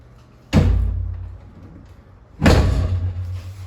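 A storm door on the front of a rental house swinging and banging, two loud close thumping impacts about two seconds apart, each followed by a rattling, fading ring, with no talk.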